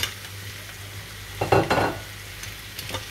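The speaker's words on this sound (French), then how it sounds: "je laisse cuire comme ça les crevettes tranquilles, ils vont devenir tout en rose" Shrimp frying in a pan with melted onions: a soft sizzle with a short burst of stirring and scraping in the middle, then a couple of faint clinks.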